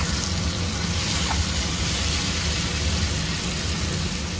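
Boiled jackfruit and drumstick pieces hiss in a hot pan, a steady, loud, even sizzle like static that holds without a break.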